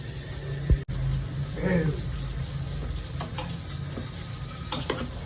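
Prawn biryani stirred in a pot after resting under a lid, giving soft scraping and rustling of rice against the pot, with one sharp knock near the start and a low background hum.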